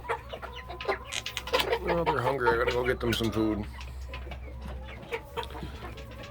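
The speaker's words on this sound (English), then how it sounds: "It's all three hens right there." Three young silver laced hens cluck and chirp close by in a backyard flock, a burst of busy calls in the middle, while a person talks over them.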